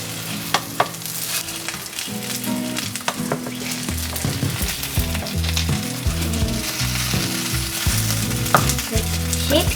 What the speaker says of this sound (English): So can I flip it?